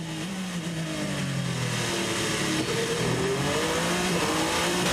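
A Le Mans endurance prototype race car engine drones past at the 24-hour race practice session, a loud sustained tone with pitch gliding and rising as it nears, continuous for several seconds with no voices.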